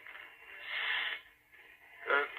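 A person imitates the hiss of a 4th of July rocket by voice, a breathy, wheezing rush that rises and fades, then a shorter, sharper burst near the end, with no other talk.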